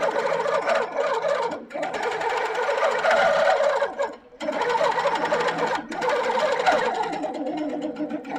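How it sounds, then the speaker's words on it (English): Sewing machine stitching a quilt at 11 stitches per inch, a steady near mechanical whirr running continuously with two brief pauses where the speed drops. "So when I press play, it's going to start sewing."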